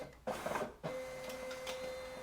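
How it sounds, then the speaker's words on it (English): A Brother MFC-L2820DW printer scans pages one after another, giving a soft mechanical whir and shuffle with a short feed burst and a sustained tonal hum from the motor, quiet and close. "the printer is taking page by page"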